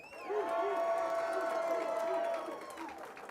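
Banquet audience at a basketball hall of fame ceremony bursts into loud cheering, whoops and applause for an inductee's guests, swelling quickly and holding steady before fading slightly.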